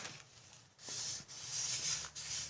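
A bone folder burnishes score lines on paper in soft, faint rubbing strokes, three or four short swipes with brief pauses between them, close by and with no talk.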